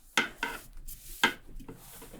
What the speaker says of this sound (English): And then I use my spatula just to spread it around.